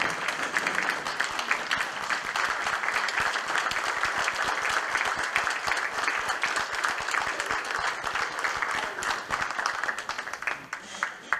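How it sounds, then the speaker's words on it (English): Standing applause at a board meeting, a sustained, loud, even roar of many hands clapping that fills the whole stretch with no letup. "Standing applause."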